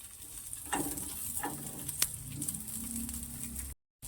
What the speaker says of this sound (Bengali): এবারে এই পেঁয়াজটা একটু ভাজা ভাজা করে নেব